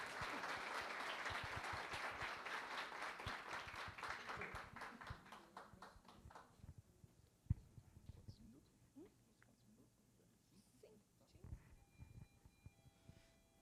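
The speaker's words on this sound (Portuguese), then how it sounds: "Uma salva de palmas" An audience at a literary showcase claps for an author named Alexandre, dense applause in the first half that thins into scattered claps and fades, with some soft talk underneath.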